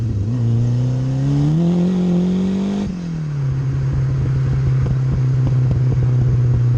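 A 1985 Ford Escort Series 1 RS Turbo engine is heard from inside on a drive, revving up through a gear, dropping at a change, then droning steadily at a loud, close hum, no talk.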